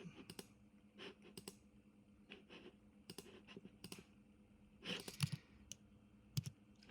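Rapid, irregular clicks of keys being typed on a computer keyboard, close and fairly quiet, with a few heavier keystrokes standing out.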